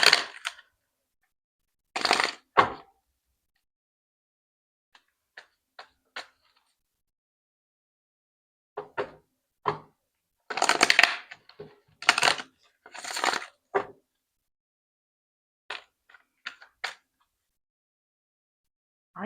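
Tarot cards are shuffled in short, sharp riffling bursts scattered irregularly across a quiet room, with crisp clustered flicks and long silent gaps between them.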